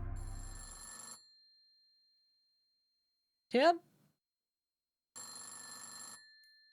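A telephone rings in the Centum video game, a bright electronic ring heard in two long bursts that open and close the moment, with a short spoken word in the quiet gap between them.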